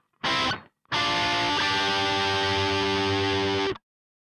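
A distorted electric guitar plays three bridge bars of a song, a short chord stab, a brief gap, then a sustained, ringing distorted phrase that cuts off cleanly, alone and fairly close.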